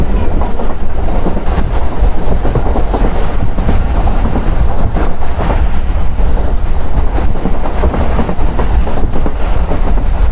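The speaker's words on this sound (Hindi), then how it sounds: "तो एक ट्रेन आ रही है बिल्कुल इस वक्त मेरे सामने से" A Pakistani passenger train rumbles past loudly and close, its wheels clattering in a rapid, continuous rhythm against a heavy, steady roar of the diesel locomotive.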